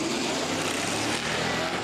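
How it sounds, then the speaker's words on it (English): A Judd V8 engine in a drift car from Forza, heard as a dense, loud, sustained roar with no break across the short stretch. "Dude, Judd V8 is one of the best noises in the world."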